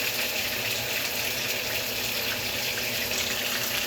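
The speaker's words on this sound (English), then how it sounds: "So I'm gonna just pour some water in." Water pours steadily and loudly into a pan while bourbon chicken cooks with brown sugar, cider vinegar and chicken stock, a continuous close splashing stream with no voices.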